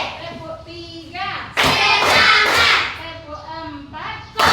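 Schoolchildren in a classroom clap their hands in a rhythm game, a loud burst of many hands clapping in the middle and a short burst at the end, with a voice speaking between the claps.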